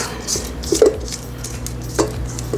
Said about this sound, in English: I hate the sound of scraping this stainless steel bowl with the scoop